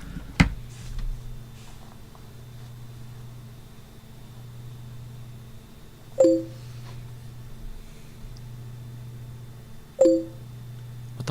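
Skype incoming call chime, sounding as two short bright electronic tones about four seconds apart over a steady low hum, moderately loud and with no one talking.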